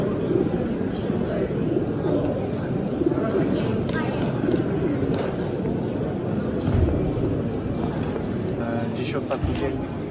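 Racing pigeons coo at the EXPOGołębie 2023 pigeon fair, a Polish exhibition of homing pigeons, their soft calls mixed into a constant hum of crowd chatter and hall noise.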